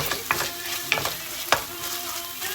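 Crushed garlic and chopped onion sizzle in oil in a pan, with a steady fry hiss broken by a few sharp scrapes of stirring, close and fairly loud.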